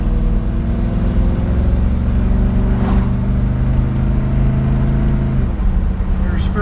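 A 1959 Chevrolet Impala hardtop with a 283 V8 drives along, a steady low engine drone with a shift change near the end, heard under talking.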